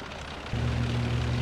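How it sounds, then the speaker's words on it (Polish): Propeller warplane droning overhead in the WWII strategy game Call to Arms: Gates of Hell Ostfront, a steady low engine hum that starts abruptly and holds at even loudness over the ambient battlefield noise. "No, samolot."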